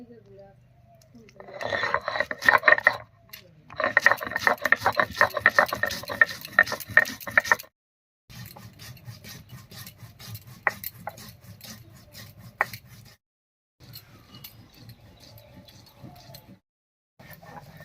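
Cumin, garlic, dried chili, ginger and onion being ground together into a spice paste, giving repeated rasping, scraping strokes in close bursts separated by short pauses.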